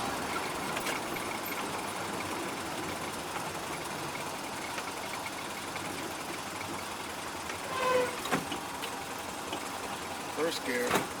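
A Ford Model A engine runs at a low, steady chug while the car pulls away in first and shifts to second, with a couple of brief rises in engine effort near the end.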